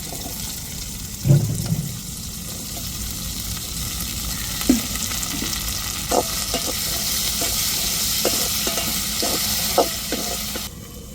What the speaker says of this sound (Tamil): இப்போ கருவேப்பிலை சேர்த்துக்கிடுவோம் உருளைக்கிழங்குலையும் சேர்த்துக்கிடுவோம்